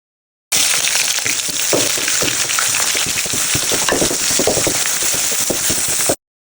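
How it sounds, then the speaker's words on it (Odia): Onions frying in hot refined oil with whole spices for a home-style chicken curry, a loud continuous sizzle with dense crackling pops running steadily throughout, no voices. "ତାପରେ ଅଏଲ୍ଟା ଭଲସେ ଗରମ ହେଲା ପରେ ଆମେ ଏବେ ପିଆଜ ଢାଳିବୁ"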